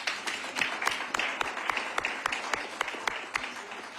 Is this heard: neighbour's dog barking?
no